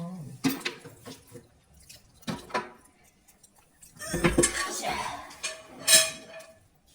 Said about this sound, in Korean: 설거지하러 가는 사람